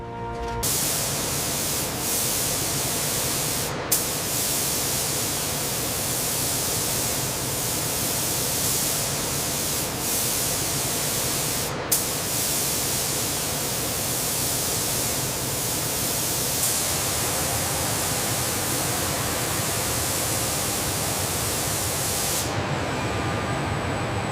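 A spray gun lays clear coat onto the exterior of a Bombardier Global 8000 private jet, a loud, continuous broadband hiss that holds steady for the whole stretch, broken by a couple of sharp clicks, and then cuts off at the end.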